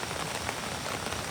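Heavy rain pours down in a dense, steady hiss of drops striking surfaces, continuous and enveloping, with no voices.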